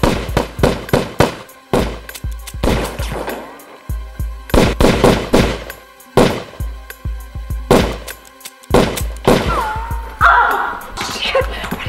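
Gunfire in a crime drama, several loud, close shots in separate bursts with sharp cracks and short gaps between volleys, and some voices mixed in.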